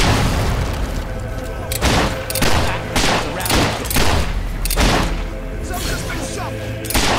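Gunfire in the game Fable 3, a series of loud, sharp shots and booming bursts fired irregularly across several seconds, with voices talking in between.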